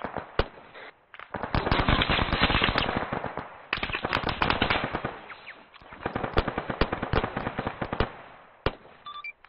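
Rapid bursts of automatic gunfire crackle almost nonstop during an army training exercise, loud and close. Sharp single shots and short pauses break up long rattling volleys.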